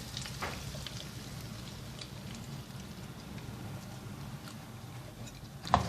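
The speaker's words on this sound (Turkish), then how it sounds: "Şimdi hazırladığım yumurtalı karışımdan üzerine döküyorum." Beaten egg mixture hits a hot pan of green peppers for an omelette, raising a steady, soft frying sizzle with a faint crackle and one sharp clink near the end.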